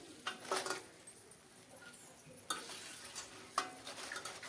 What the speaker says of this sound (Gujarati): હવે આને ફેરવતા જઈએ અને ધીમા ગેસ ઉપર તળી લઈએ